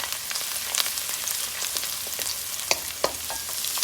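Garlic frying in a pan for pinakbet makes a close, steady sizzle with scattered sharp crackles and a couple of louder pops, no voices.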